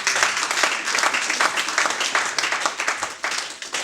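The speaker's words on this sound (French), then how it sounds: "Est-ce qu'on peut acclamer le roi des rois?" A church congregation at a Sunday service applauds steadily, with dense, rhythmic clapping and some cheering filling the room at a constant, lively level throughout.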